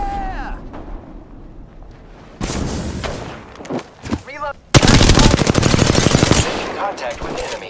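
Automatic weapon fire in Apex Legends, with scattered shots early on, then a loud sustained burst of rapid gunfire up close, mixed with game effects and brief voices.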